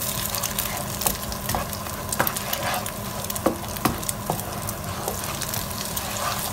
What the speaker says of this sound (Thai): เราก็ผัดไข่ให้สุกก่อนนะคะคนไปเลยค่ะ